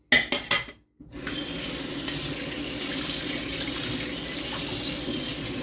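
A kitchen tap runs steadily into a sink, a constant rushing hiss of water that continues alone after a few brief clinks at the start.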